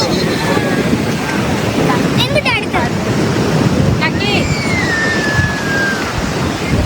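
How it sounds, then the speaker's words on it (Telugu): Surf rolling onto Chirala beach in Andhra Pradesh at midnight, a steady loud wash of waves with wind buffeting the microphone and faint background voices. "మిడ్ నైట్ అయినా సరే చీరాల బీచ్, రామవరపు బీచ్."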